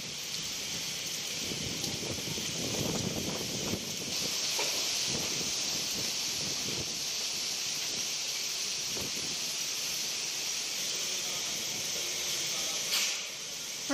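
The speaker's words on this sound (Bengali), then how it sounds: "ঝোড়ো হাওয়ার সাথে বৃষ্টি আরো বেড়েছে" Heavy rain driven by stormy wind during the landfall of Cyclone Remal makes a dense, continuous roaring hiss. It holds at an even level throughout, with a brief surge near the end.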